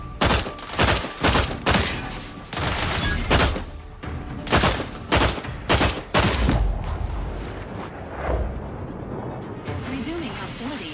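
Rapid bursts of gunfire and booming blasts in The Outer Worlds 2, loud and close, arriving in clustered volleys with short gaps, mixed with game voices and combat noise.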